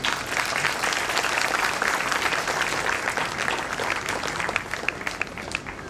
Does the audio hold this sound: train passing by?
no